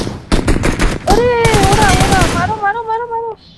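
Rapid automatic gunfire rattles in two close, loud bursts in a shooter video game, followed by a sustained tonal voice.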